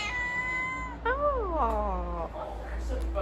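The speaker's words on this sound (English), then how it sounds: "it's got a resident cat, which is nice" A resident cat in a small farm supply store gives a long, drawn-out meow and then a second wavering one, close and clear, with faint store background behind it.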